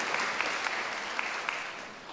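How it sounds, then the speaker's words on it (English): An audience gives a brief round of applause, dense steady clapping with a few sharper claps standing out, lasting about two seconds. "if you guys can do that and do a nice short applause, we'll keep going"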